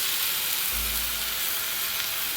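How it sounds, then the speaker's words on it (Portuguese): Broth ladled a little at a time into a pan of pork rib risotto, giving a steady close sizzle and bubbling hiss with a brief deeper burble partway through, no voices. "eu venho aqui, ó, com o caldo e vou colocando aos poucos"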